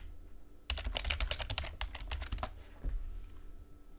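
Rapid computer-keyboard typing of a crypto search, a dense run of close, crisp key clicks for about two seconds, then a few scattered taps fading out.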